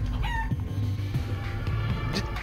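Chicken clucks and squeaky bird calls from the video game Guacamelee 2, short repeated cackles over a dense, loud game soundtrack.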